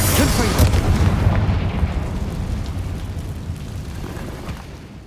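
A Confringo explosion spell from Hogwarts Legacy: a loud, deep boom at the start that rolls out and slowly fades over several seconds, with a faint voice briefly heard.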